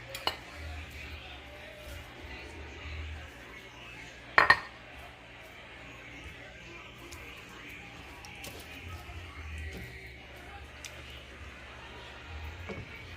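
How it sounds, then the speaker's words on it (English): Spoon stirring rice in a pot for slow cooker chicken and white rice, soft scraping with a sharp metallic clink partway through, heard close under quiet speech. "Just kind of stir it, then add your cilantro."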